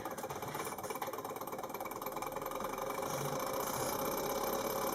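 A small Stirling engine runs steadily, a continuous mechanical hum with a fast regular ticking of moving parts, close and moderately quiet.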